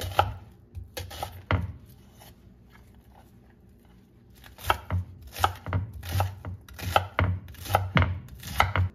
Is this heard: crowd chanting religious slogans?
no